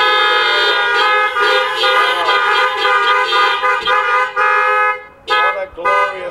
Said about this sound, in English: would you simply honk your horn?